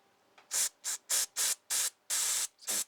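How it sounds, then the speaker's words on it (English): A can of carburetor cleaner sprays through a hole in a Tecumseh engine carburetor in rapid short bursts, seven or so crisp hissing puffs in a steady rhythm, close by with quiet between. "And then when I spray through here,"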